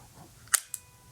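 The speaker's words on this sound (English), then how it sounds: "fire the shutter" A vintage camera's leaf shutter fires: one sharp, close metallic click followed a fraction of a second later by a fainter second click, in an otherwise quiet room.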